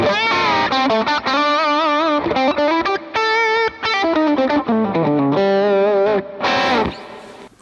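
Electric guitar played through an Axe Fx 3 with a Maxon 808-clone overdrive, a Matchless DC-30 amp model, picks out a lively, sustained distorted lick with ringing chorused notes, loud and close.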